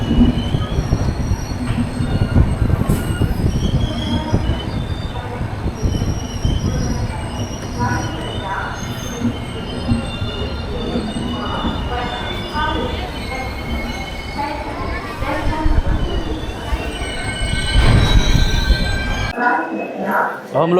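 A Delhi to Patna summer special sleeper train pulls into Patna Junction, its wheels squealing in long, loud, high metallic screeches over rumbling, clattering carriages, close and continuous, with voices mixed in at times.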